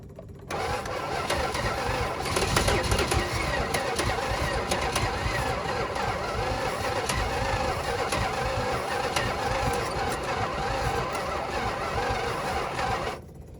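A 1966 Plymouth Sport Fury V8, left sitting for over 35 years, cranks steadily and tries to start. The close, continuous churning runs for about twelve seconds without catching.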